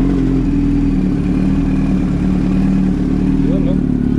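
A motorcycle engine, just back together after a carburetor cleaning, runs steadily at a low idle with a rough, clattering tone, loud and close, while voices talk over it.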